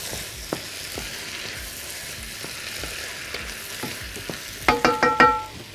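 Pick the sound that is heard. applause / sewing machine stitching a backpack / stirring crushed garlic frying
stirring crushed garlic frying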